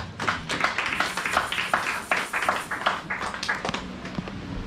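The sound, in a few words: congregation applauding in church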